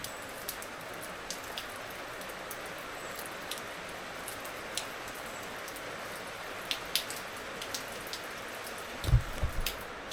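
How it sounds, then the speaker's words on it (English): Rain falls outdoors on a workshop area, a steady soft patter of scattered drops under a low background hiss, with a brief louder knock or bump near the end. "You guessed it, raining."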